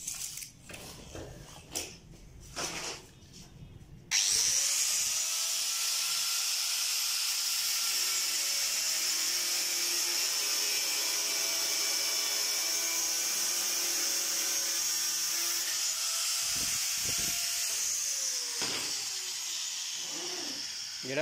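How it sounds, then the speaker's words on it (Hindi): A grinder cuts during PVC door making, starting abruptly after a few clattering knocks and then whining loudly and steadily for a long stretch before tapering near the end. "अब यहाँ से हम ग्राइंडर मारेंगे"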